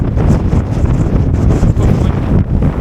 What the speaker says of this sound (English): The wind blows.